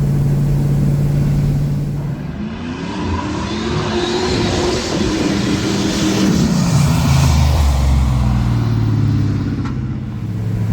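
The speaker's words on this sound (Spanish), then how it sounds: "Pero está patinando incluso solamente una rueda." A Chevy with a traction problem spins one wheel as its engine revs loudly and continuously, the roar rising and falling in pitch while the tyre churns, heard close and alone.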